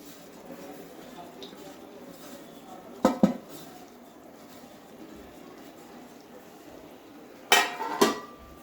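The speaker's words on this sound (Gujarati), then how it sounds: "ત્યારબાદ આપણે સરસ મિક્સ કરી લઈશું આ રીતે." Crushed wheat is stirred into melted jaggery in a pan over low heat, a soft steady background with two bursts of metal spoon scraping and clinking against the pan, one near the middle and one near the end.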